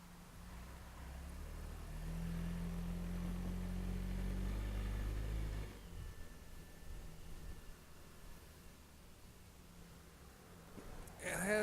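A motorcycle being ridden, its engine droning and rising in pitch under acceleration, then easing back to quieter steady running with road and wind noise, heard at a moderate distance.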